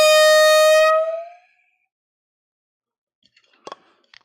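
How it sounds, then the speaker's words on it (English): A single loud air horn blast at a live vinyl record sale, a bright harmonic honk lasting about a second before cutting off into silence, followed by faint clicks and handling noises. "It's time for the air horn."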